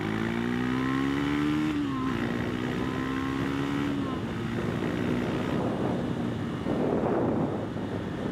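A Triumph Scrambler 400X motorcycle fitted with a Fuel X Autotune accelerates in second gear, its engine drone rising steadily in pitch with wind rush, heard from the rider's position.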